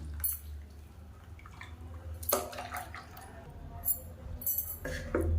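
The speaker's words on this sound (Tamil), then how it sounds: "இப்போ இதில் தண்ணியை ஊற்றிட்டு" Water poured into a bowl of coconut chutney, a few brief splashing, trickling bursts over a quiet kitchen background, fairly close and moderately soft.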